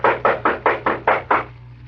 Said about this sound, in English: I'm going to knock on the door.